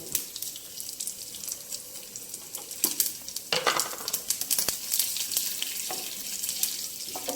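Fenugreek, cumin and mustard seeds crackle and sizzle in hot oil, close up and moderately quiet, with scattered sharp pops and spits over a steady frying hiss.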